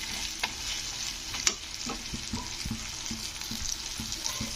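Tomato and chili powder masala sizzles in a pan while being stirred, a steady frying hiss with irregular clicks and scrapes of the spoon, close and fairly loud.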